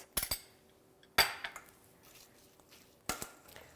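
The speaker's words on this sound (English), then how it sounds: "I'm gonna go ahead and add that all in, and then give it a good mix" Chicken salad with relish, salt and pepper being mixed in a bowl: a few sharp utensil clinks and scrapes against the dish, spaced apart, with quiet handling between them and no talking.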